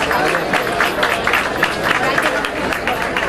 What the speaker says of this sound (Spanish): Para ellos el primer aplauso.